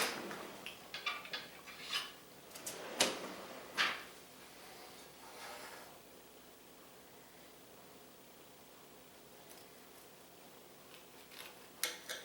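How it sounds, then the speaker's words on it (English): Knife slicing open a steak and bacon Caesar wrap, a few crisp close scrapes and cuts over the first few seconds, then quiet handling with a couple of light taps near the end. "I'm going to cut it open so you can see it."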